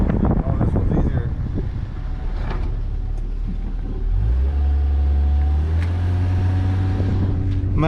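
A 1GZ-swapped Toyota Soarer SC300 drives over rough road bumps, with a loud continuous cabin rumble, jolting thumps and a rising engine drone; people talk over it.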